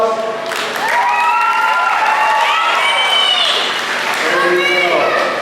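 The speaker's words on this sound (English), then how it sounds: "Give your friends a big round of applause." At a county fair dolphin show, a crowd breaks into loud, sustained applause mixed with cheering. Bright, sweeping whistle-like calls rise above the broad wash of clapping throughout.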